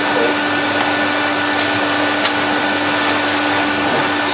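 An orange Tango Hoover Junior 1346a bagged upright vacuum cleaner, refurbished and with a fairly full bag, runs loud and steady nearby with a constant motor whine and a rushing airflow roar, and no talk over it.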